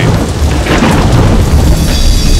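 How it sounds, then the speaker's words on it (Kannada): Heavy rain pours down in a loud, dense, continuous hiss, with deep thunder rumbling through it. "ಈ ಸುರಿಯುವ ಮಳೆಯಲ್ಲಿ"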